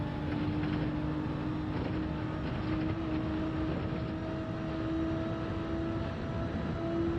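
A car engine held at full throttle through a chicane in Gran Turismo 7 makes a steady, droning engine tone with a high whine and no breaks.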